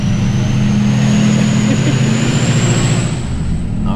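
A Duramax diesel pickup truck drives in a constant loud, close engine rumble with a faint high whine running above it, squeezing through a tight spot near a tunnel and stadium.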